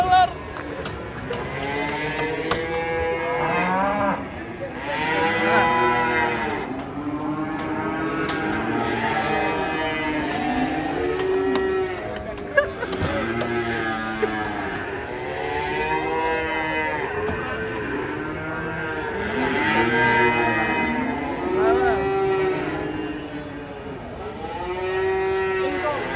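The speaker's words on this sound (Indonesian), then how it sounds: "Penurunan sapi ngamuk." Agitated, raging cattle bellow one after another while being unloaded from a truck, loud drawn-out moos overlapping in a steady chorus for the whole stretch, with background commotion and occasional voices.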